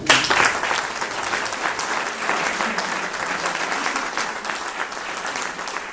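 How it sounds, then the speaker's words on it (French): Audience applause at a reception honouring an athletics club, a dense, steady burst of clapping from a sizeable crowd that runs the full length without a break, loudest at the start. "Dans nos applaudissements."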